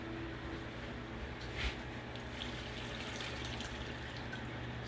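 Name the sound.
sauce being poured over oxtails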